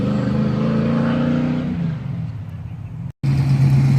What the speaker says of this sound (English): Old Falcon, sounds great too.